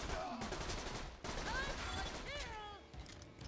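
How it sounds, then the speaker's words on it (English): Gunfire in Borderlands 2 comes as rapid, rattling bursts of shots from the player's weapon, with brief gaps between volleys and a faint voice underneath. "I have to kill it with this gun."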